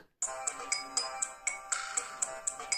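A bright electronic ringtone melody plays from the small loudspeaker of a Samsung Tocco SGH-F480i mobile phone, a repeating pattern of clear chiming notes at moderate volume with no voices.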